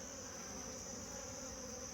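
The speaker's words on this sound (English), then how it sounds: "this bee is trying to let me know that I need to be out of here" Honeybees buzzing around an opened nuc hive, a steady dense hum with a sustained insect whine holding evenly throughout, close and continuous with no talking.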